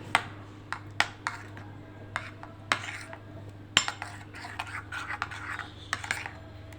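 A spoon clinks and scrapes in a bowl while mayonnaise and tomato sauce are stirred together for chicken shawarma sauce, giving irregular close metallic taps over a quiet background.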